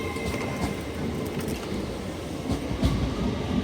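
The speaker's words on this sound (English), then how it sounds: "And on the rear of the Transpennine 802s, we've got 802-217." A TransPennine Class 802 train runs through York station with a low, steady rolling rumble and faint rhythmic wheel clatter, heard fairly quietly from the platform.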